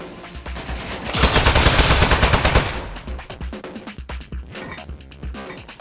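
Rapid automatic turret fire rattles loudly in a video game, a dense sustained burst that then breaks into scattered, sharper individual shots and clatters over a low rumbling background.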